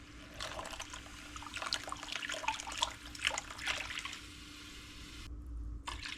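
Water poured from a can into a pot of tomato sauce for unstuffed peppers, a steady close splashing pour with brief gurgles lasting several seconds, no talk.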